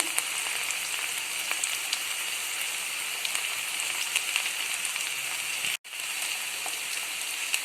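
Vegetable poriyal crackling and sizzling in a hot pan with turmeric, chilli powder and salt, a steady rain-like hiss across the whole stretch, broken by a brief cutout near the end.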